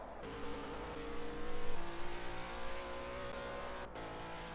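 A race car in a racing video game slides through turn one at the Belgian Grand Prix, its engine droning steadily and loudly with rising and falling pitch, swelling briefly mid-turn before settling.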